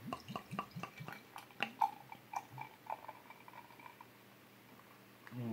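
Dark beer is poured into a round goblet glass, with faint clicks, drips and fizzing patter close by that fade out before a soft bump at the end.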